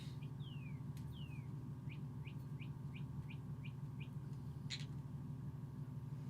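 Birdsong plays from bird videos on a TV indoors: a run of quick, evenly spaced chirps and a couple of downward whistles, thin and moderately faint over a steady low room hum.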